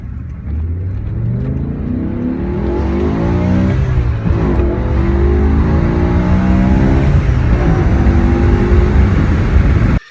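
A BMW M5 engine revs up through rising pitches, dropping briefly at each gear shift before climbing again, loud and close with no talking.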